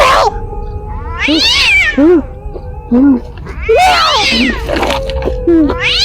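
A cat meows repeatedly and loudly, drawn-out wailing cries rising and falling, close by, with a few lower short calls between them.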